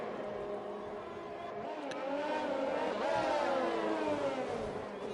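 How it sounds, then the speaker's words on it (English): Formula 2 race cars in a PS4 racing game sweep through corners toward the final sector of the Abu Dhabi circuit, engines droning continuously and rising in pitch as cars pass, loud and steady with no talk. "plenty of cars passing through these corners into the final sector"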